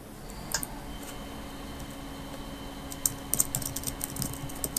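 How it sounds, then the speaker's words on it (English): Keys on a computer keyboard click in short scattered bursts of quiet taps, sparse at first and then quicker, close to the microphone over a faint steady hum. "I'm just gonna type something."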